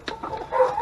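Chickens clucking close by during feeding time, a few short clucks followed by a longer drawn-out call, loud and with no talk over it.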